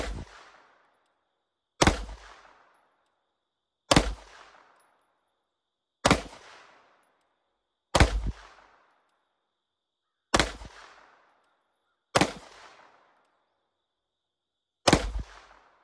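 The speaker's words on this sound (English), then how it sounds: "I'm gonna start out with the Glock this time." A Glock 19 pistol fires eight single shots at a shooting range, each a sharp loud crack with a short echoing tail, spaced about two seconds apart with silence between.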